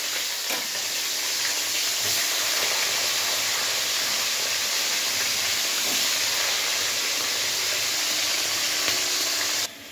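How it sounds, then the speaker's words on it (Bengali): Green beans fry in a hot pan, giving a loud, steady sizzle and hiss that holds unbroken for about ten seconds, close to the microphone. "বিনসটা আমি ছেড়ে দিলাম।"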